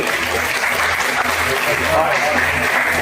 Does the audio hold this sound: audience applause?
yes